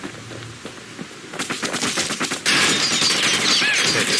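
Gunfire from the action video game Bastion: sparse single shots give way to rapid rattling bursts, then a dense, loud continuous barrage with no speech.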